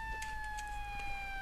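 An ambulance siren sound effect played during a Flash Point firefighting board game, a steady electronic tone held faint and constant in the background for a short moment, with no talking.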